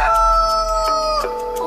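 A cartoon rooster crows at five in the morning, one bright, tonal cock-a-doodle-doo close up and loud, its pitch dropping at the end.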